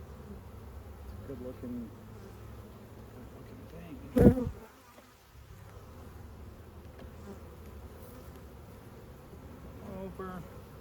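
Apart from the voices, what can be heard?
honey bees in a swarm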